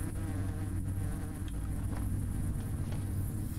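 Steady, dense buzzing of a swarm of bees in the video game Hungry Lamu, loud and continuous throughout with a low droning hum underneath and no voices.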